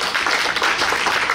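Audience applause at an outdoor military-themed trot music concert, a steady dense wash of clapping that fills the whole short stretch at an even level.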